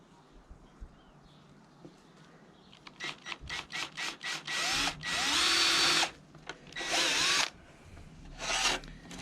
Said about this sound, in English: We'll carefully start it off with that 2mm drill bit.